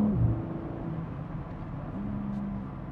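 A BMW M3 Touring xDrive engine hums quietly with a low, steady tone that shifts in pitch a few times, suggesting revs rising and gear changes, heard faintly from inside the car.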